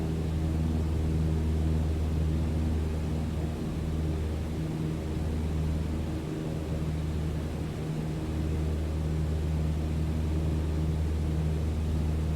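A light airplane cruising near 2,000 feet in Microsoft Flight Simulator, its engine a steady droning hum with a deep tonal rumble, briefly dipping and wavering as the throttle eases back, otherwise constant and unbroken.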